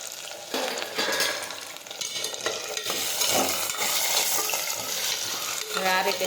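Chopped potatoes hitting hot oil with mustard seeds and cumin, a dense crackling sizzle that swells and holds steady for several seconds, up close, with no talking.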